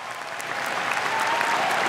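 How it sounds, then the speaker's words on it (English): A graduation crowd at Mililani High School applauds special guests; a broad wash of many hands clapping at once, steady and gradually swelling slightly over two seconds. "How about a round of applause for our special guests?"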